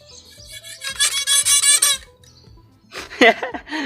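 A rababa, an Arabic bowed fiddle, squeaking in a few scratchy, uneven bowed bursts close up, with rough pitch wobbles and short silent gaps between strokes.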